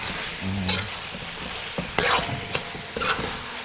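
Stirring a pepper-seasoned cabbage and chicken mixture in a frying pan gives a loud, steady sizzle broken by a few scraping strokes of the utensil, close by and without talk.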